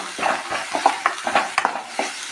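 Onions and chillies fry in hot oil with curry leaves for a crab masala gravy, a constant close sizzle punctuated by a quick rhythmic series of spoon scrapes as the pan is stirred, with no talking.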